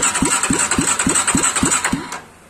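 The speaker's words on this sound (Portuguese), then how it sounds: "o motor está girando." A Twister 250cc motorcycle engine fitted to a homemade tractor turns over in a steady, even chugging rhythm of about eight close, loud pulses, then cuts out and fades.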